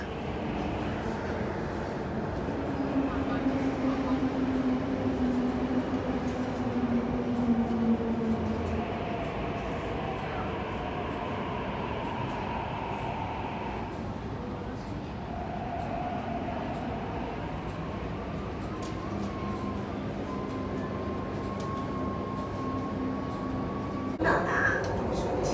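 An MTR train pulls into Sung Wong Toi Station in Hong Kong, a continuous rumble with rising and falling motor whine and brake tones across the platform, with a station announcement heard over it.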